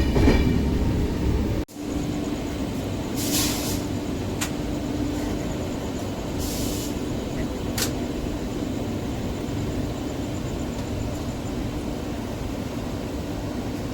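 Darjeeling Mail general-class carriage rolling at speed at night, with a constant loud rumble inside the coach, a brief dip near the start, and scattered metallic clicks and rattles from the rails over the steady drone.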